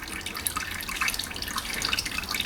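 Engine oil draining from a 2000 Toyota Yaris Verso 1.3, a continuous close trickle and splatter of liquid pouring into a container, steady and fairly quiet throughout.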